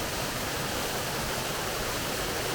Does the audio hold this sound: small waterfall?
yes